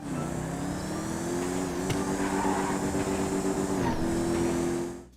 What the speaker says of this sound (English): you will traditionally hear a nice revving of your vehicle